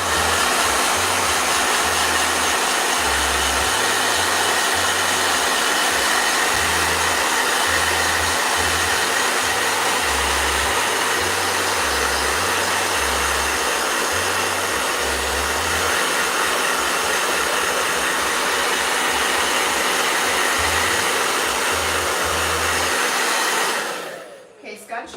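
A blow dryer runs loud and steady, up close, as an artist dries gouache paint, holding a constant roar for about 24 seconds before switching off abruptly at the end.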